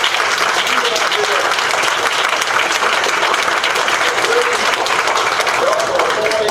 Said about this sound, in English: we need to applaud these parents, these chaperones, these students, all these people